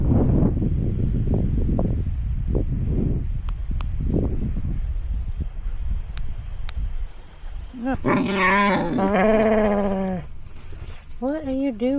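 A dog growls and whines inside a tent on a very windy campsite, its low rumbling grunts broken by higher yelping whines and bleat-like cries near the end, with wind buffeting throughout.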